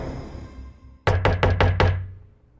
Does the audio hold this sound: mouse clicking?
no